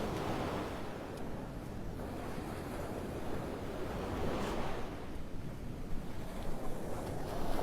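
Ocean waves breaking on a stormy Gulf beach, a continuous roaring wash of surf with wind noise on the microphone, steady and fairly full throughout.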